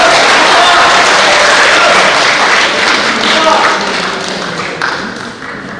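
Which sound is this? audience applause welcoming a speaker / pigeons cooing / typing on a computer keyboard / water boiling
audience applause welcoming a speaker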